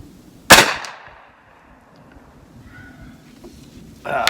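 Single sharp, loud gunshot from a 9mm lever-action rifle firing AAC 147 grain ammunition outdoors, with a short decaying echo afterward and a second blast-like burst near the end.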